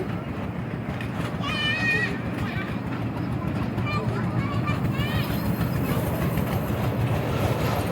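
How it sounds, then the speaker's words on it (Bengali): A small children's ride train rumbles along steadily with a rhythmic clatter, amid a noisy fairground crowd and nearby talking. "এখানেও বাচ্চাদের বসার জন্য ট্রেন চলছে দেখো"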